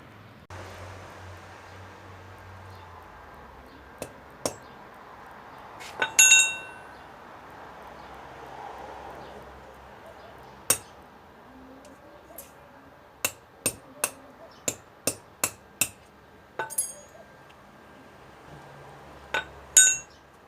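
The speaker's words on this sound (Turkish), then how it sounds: "Üstüne vuruyorsunuz çekiç gibi sert bir cisimle." Sharp metallic taps ring out as a hard object hammers a bicycle pin, first scattered and then in a quick run of about a dozen strikes, with a few louder clinks near the end over a quiet room.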